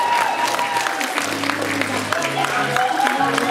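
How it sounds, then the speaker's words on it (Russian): Audience applause for costume show participants at a convention, dense clapping and some cheering under a loud voice and music-like tones throughout. "Ваши бурные аплодисменты участникам!"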